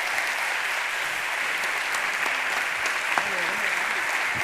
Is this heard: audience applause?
yes